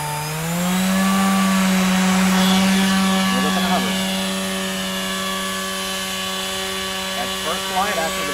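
A Stingray 500 RC helicopter spools up for its first flight after the build, its rotor whine climbing in pitch and then holding as a steady, loud, close drone.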